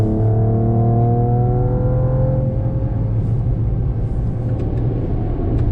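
A Mercedes-Benz E53 AMG in Sport Plus mode revs hard with a loud, close engine note that drops in pitch and turns into a steady, rough roar, with no talking.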